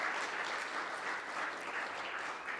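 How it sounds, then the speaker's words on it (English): Audience at a church giving update breaks into a steady round of applause, many hands clapping together for a couple of seconds without pause, fairly loud and with no talking over it. "Can you guys give Johanna and God a hand"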